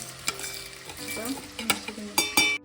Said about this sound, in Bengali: এবার এগুলোকে সব হালকা করে আমি একটু ড্রাই রোস্ট করে নেবো।